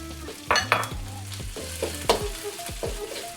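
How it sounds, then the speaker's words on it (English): Beef tossed into a very hot pan with browning garlic, giving a crackling sizzle with several sharp clinks and scrapes of a utensil stirring, close and fairly loud, no voices. "I'm gonna throw in my beef."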